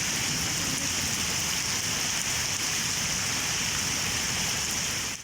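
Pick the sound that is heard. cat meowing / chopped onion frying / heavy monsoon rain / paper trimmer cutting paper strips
heavy monsoon rain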